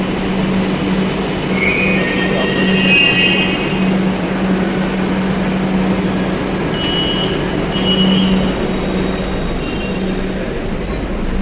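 A nearly empty metro train runs along the track with a loud, constant rumble and intermittent squealing wheels, heard from inside the carriage with no talking.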